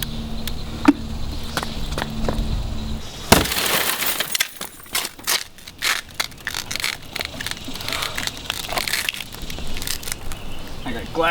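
Glass crashes and shatters, spilling across banners at an adaptive sports event, with a sharp burst of breaking followed by scattered clinks, crunches and debris settling, and some voices in the background.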